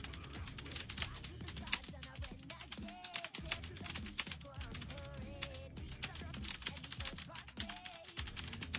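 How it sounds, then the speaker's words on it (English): Rapid computer keyboard typing runs throughout, a dense, steady stream of close, crisp key clicks with a few faint tonal sounds underneath. "How's the typing actuation,"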